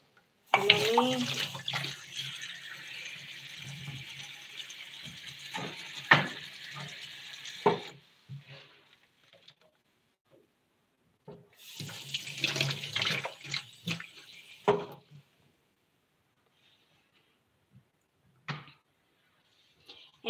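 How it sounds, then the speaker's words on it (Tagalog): A faucet with hot and cold water runs in two bursts, a hissing splash for several seconds, then a pause and a second shorter run, with a few faint clinks and soft talk between. "Ito yung faucet."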